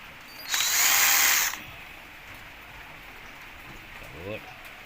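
A power tool whirs in one loud burst of about a second while unscrewing bolts on a washing machine solenoid, followed by quiet room noise and a brief voice.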